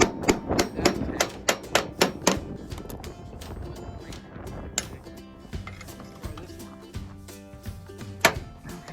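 Hammer blows ring out on metal while knocking off a truck back rack, a quick run of sharp strikes at first, then scattered irregular knocks with pauses between them.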